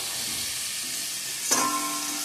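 Water is poured into a pan of sizzling biryani masala, setting off a sudden loud burst of hissing sizzle that keeps bubbling steadily after a quiet stretch of faint pan noise.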